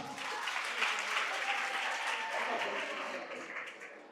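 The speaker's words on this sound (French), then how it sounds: "Mais vous êtes avare en applaudissements." Sustained audience applause filling a school quiz competition hall, dense and even clapping from a sizeable crowd that carries on for several seconds and tapers slightly at the end.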